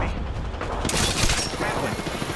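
Gunfire in the video game Apex Legends, a steady stream of rapid automatic shots and booms, loud and dense, with a brief brighter burst in the middle and game voice lines mixed in.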